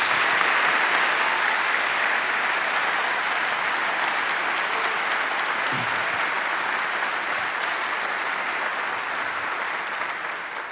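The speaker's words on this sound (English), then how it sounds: "Let's give them a round of applause." A large audience gives a long round of applause at an ROTC commissioning ceremony. It is dense and continuous throughout and fades slightly toward the end.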